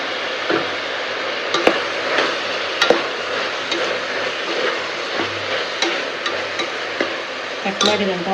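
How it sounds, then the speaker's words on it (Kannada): Sliced mushrooms fry in oil for a dhaba-style mushroom biryani, a steady close sizzle broken by scattered clinks and scrapes as a spoon stirs the pan, with no one talking. "ಮಶ್ರೂಮ್ನ ಹಾಕಿ ಸ್ವಲ್ಪ ನಿಧಾನಕ್ಕೆ ಫ್ರೈ ಮಾಡ್ತಿದ್ಮೇಲೆ"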